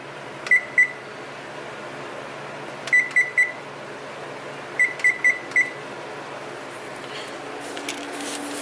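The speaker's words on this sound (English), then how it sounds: "timer set for 20 minutes." A kitchen timer beeps in short bursts as it is set, sharp electronic tones in groups of two, three and four, close and clear over a quiet room hum.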